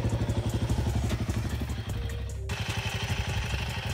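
A motorcycle engine idles during an oil flush, with a steady, close, pulsing thump-and-clatter rhythm that runs throughout and no talking.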